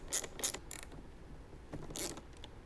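A 10mm socket wrench ratchets on a battery terminal nut in a Jeep Wrangler JK, giving a few quick, close clicking bursts followed by a final ratchet run.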